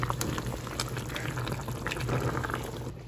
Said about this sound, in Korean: 짬뽕을 끓이고 있어요